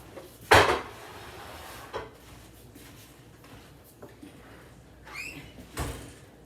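Pots and pans clatter in a home kitchen, with one loud metallic knock near the start and a few lighter clanks and scrapes later, fairly close.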